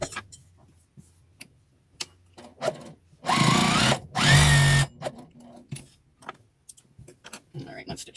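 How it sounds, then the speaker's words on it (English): A sewing machine stitches together scrap fabric pieces for a Christmas bowl cozy in two loud bursts of steady motor whir, separated by a brief pause, with quiet handling clicks and rustles of the fabric around them. "Now I'm going to stitch them down."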